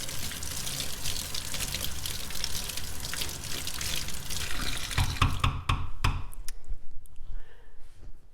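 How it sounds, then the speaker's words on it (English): Running tap water pours steadily as an object is rinsed after a soapy wash in an art studio, then cuts off, leaving a few drips and light clatter of handling. "Rinse it underwater."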